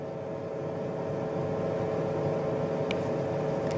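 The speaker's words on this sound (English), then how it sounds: "When you press start, the machine starts to simmer" An IPL hair removal machine powers up and settles into a steady, continuous hum, even and unbroken throughout, with a brief faint high tick near the end.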